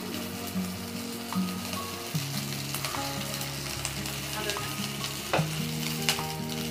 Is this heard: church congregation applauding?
no